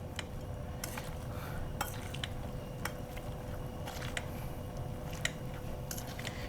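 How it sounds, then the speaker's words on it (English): Braised carrots are smashed into a mash in a pan with a utensil, giving soft squishy presses and scattered sharp clicks of metal against cookware at an irregular pace, with no talk. "We're gonna smash our carrots."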